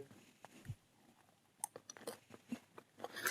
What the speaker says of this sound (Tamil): நான் என்னோட ஈவினிங் ஸ்நாக்ஸ் சாப்பிட போகிறேன்